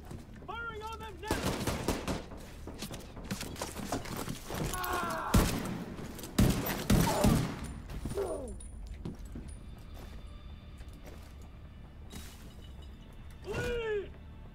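Scattered bursts of gunfire in the video game Division 2, fairly quiet and mixed with game effects and other sounds, with a louder cluster of shots near the middle.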